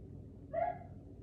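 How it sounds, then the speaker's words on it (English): A single short bark or yip, somewhat distant and muffled, over a low steady background hum. "Who was out there barking?"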